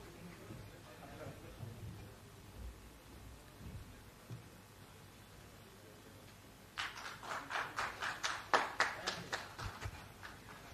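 Audience at a cardiology conference breaking into applause, a rising burst of clapping in a large hall following a stretch of quiet room noise and murmuring.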